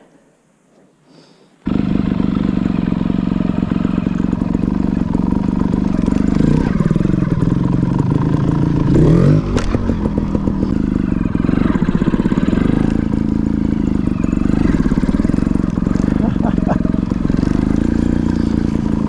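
A Gas Gas 300 trials motorcycle starts up after a quiet moment and runs loud and close for the rest of the clip, holding a rough, steady engine note with a few brief rises in revs.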